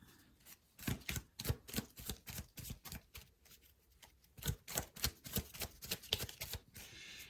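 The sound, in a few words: shuffling cards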